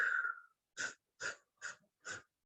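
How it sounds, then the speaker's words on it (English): Yoga stair-step breathing: one long breath followed by four short, evenly spaced sipping inhales, close and quiet with no talking. "Stair step breathing, which is from yoga"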